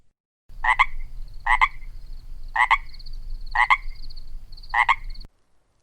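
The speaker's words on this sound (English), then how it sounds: "the Pacific tree frog has been heard around the world" A Pacific tree frog from California calls in five evenly spaced, loud two-part croaks about a second apart, each a sharp rising ribbit, over a steady low background hum.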